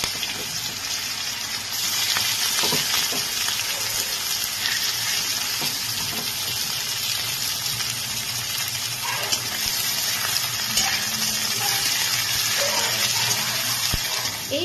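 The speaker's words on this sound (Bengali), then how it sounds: "ফোড়নটা একটু ভাজা হয়ে গেলে আমি এর মধ্যে কুচানো পেঁয়াজগুলো দিয়ে দিচ্ছি।" Chopped onions hit hot oil in a pan with tempering spices and sizzle steadily, a broad hissing crackle that carries on throughout at moderate loudness, with no voices.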